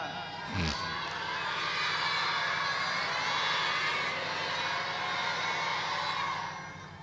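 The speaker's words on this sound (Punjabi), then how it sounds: "ਹੁਣ ਜੈਕਾਰਾ ਕਿਹਨੇ ਲਾਉਣਾ?" A congregation at a Sikh samagam in Batala shouting a jaikara, a loud, sustained roar of many voices lasting several seconds and fading slightly at the end.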